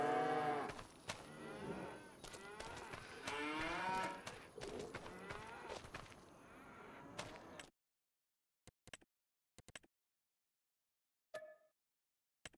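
Cattle on a ranch in a video game moo repeatedly, several overlapping drawn-out calls close and fairly loud for about eight seconds, then near silence with a few brief clicks and one short faint call.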